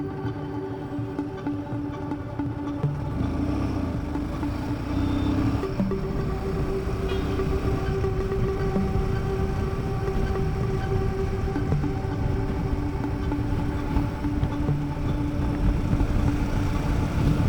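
Steady road traffic on Umred Road in Nagpur's Bahadura area at night, a continuous rumble of car and truck engines passing nearby, loud and unbroken with no talk.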